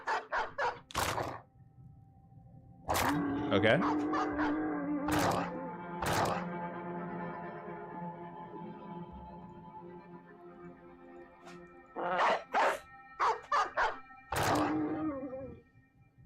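Dogs in the Battle Brothers video game bark, growl and snarl as they attack, with bursts of loud yelps and sustained groaning tones separated by short gaps, and a voice briefly speaking.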